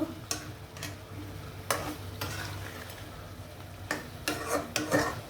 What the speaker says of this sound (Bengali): মাছটা আমি একটু কষাবো